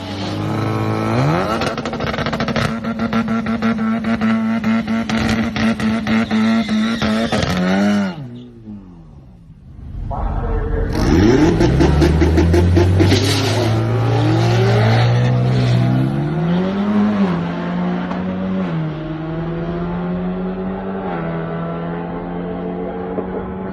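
A 10th-generation Honda Accord with an automatic transmission revs hard on a quarter-mile drag run, its engine climbing through the gears with a brief drop at a shift, then roaring loudly on toward a 122 mph trap speed.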